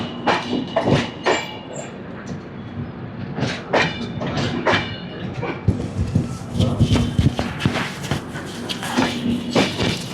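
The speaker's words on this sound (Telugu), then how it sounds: "భోపాల్ స్టేషన్ నుంచి బయలుదేరుతున్నాం." A train departs Bhopal station with rhythmic clicking and clacking of wheels over rail joints, interspersed with nearby voices and station bustle.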